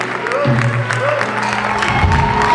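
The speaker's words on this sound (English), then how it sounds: "You can clap and clap." Audience applause after a university inaugural lecture, a broad patter of clapping from the crowd at moderate volume, layered with voices and a low tonal hum throughout.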